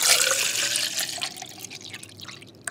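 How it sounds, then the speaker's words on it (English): Cold water poured into a container, a bright splashing stream that is loudest at the start and thins to a softer trickle with scattered drips, heard alone without talk. "pour number one was cold water"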